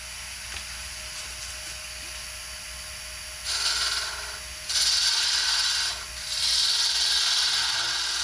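A woodturning tool cutting into the back of a spinning sea urchin ornament on a lathe, loud bursts of hissing cutting noise over the steady motor hum, coming in three separate passes.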